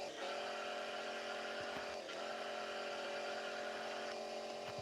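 A video game car speeds along on nitro boost, giving a constant, dense engine whine at even loudness with a faint dip midway, and no talking.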